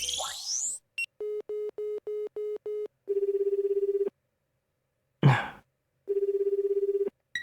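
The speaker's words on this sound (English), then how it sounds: "I head to the bathroom to call Mizuki" A quick series of dialing beeps leads into a phone's repeated ringback tone, each long buzzy tone separated by silence, with a brief rustle between.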